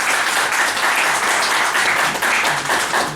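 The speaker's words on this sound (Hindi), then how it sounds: "एक बार तालियां बजा के इस बात के लिए," Audience clapping at a Hindi conversation-series event, a dense steady burst of applause that fills the whole moment with no voices over it.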